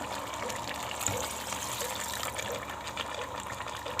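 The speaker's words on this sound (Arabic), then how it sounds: "ميه اهو" Water gushes steadily into a cooking pot of potatoes, a continuous broad splashing fill sound that lasts throughout with no pauses.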